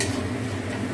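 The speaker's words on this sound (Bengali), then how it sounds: "মাছের ঝালটা ফুটছে, দিয়ে দিই।" Fish curry with mustard and tomato bubbling in a pan, a steady close sizzle and simmer with faint clicks throughout.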